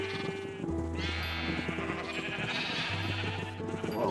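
Sheep in Minecraft (Legacy Console Edition) bleat repeatedly, several overlapping game bleats over a steady backdrop of other in-game sounds, fairly loud and without talk.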